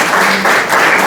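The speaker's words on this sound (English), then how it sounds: "Once again, a huge round of applause for Toastmaster Keshav." A short, loud burst of crowd applause at a Toastmasters meeting for Toastmaster Keshav, dense overlapping clapping filling the whole moment.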